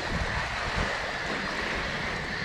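Wind blows outdoors at a triathlon race venue, a steady broadband rush with gusty buffeting over the microphone and no voices.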